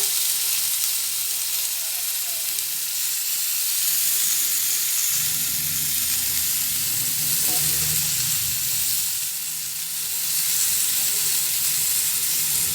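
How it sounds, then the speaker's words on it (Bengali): Potatoes and tomatoes fry in a pan with a loud, steady close sizzle and hiss, a lower bubbling layer joining partway through, no talking. "টমেটোগুলো আলুগুলো ভালো করে ভেজে নেবো"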